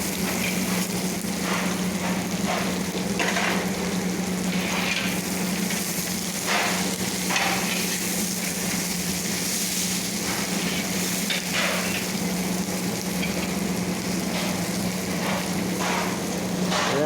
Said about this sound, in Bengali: এখন পেঁয়াজটা দেবো।